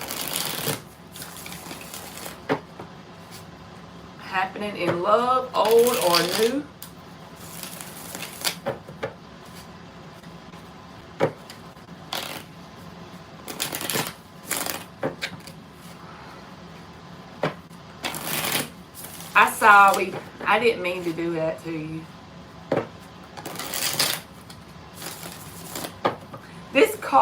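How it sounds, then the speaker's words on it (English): A tarot card deck is shuffled in repeated riffling bursts, spaced through the clip, with a person talking in between. "This deck shuffles like butter"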